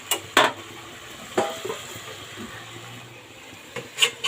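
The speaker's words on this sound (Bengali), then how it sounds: "এবার আমি এর মধ্যে ঢাকনা দিয়ে দেবো" A lid set onto a cooking pot of vegetable curry brought to a simmer: a few sharp metallic clinks near the start and again near the end, separated by quiet background hiss.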